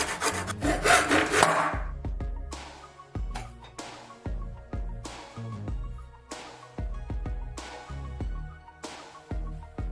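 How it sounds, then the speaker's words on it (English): Hand saw cutting through wood along a masking tape edge, a loud rasping start followed by a steady run of evenly spaced back-and-forth strokes, close up with no talking. "Saw strictly along the edge of the tape."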